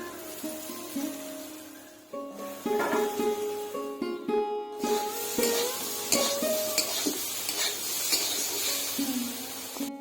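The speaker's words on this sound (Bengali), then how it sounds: "ভাজা হয়ে গেছে এখন ভেজে রেখে আলুটা দিয়ে দেবো" Potatoes fry in a pan for a Bengali tengra fish dish, with a steady sizzle under sharp stirring scrapes and clinks of a utensil against the pan, close and alone.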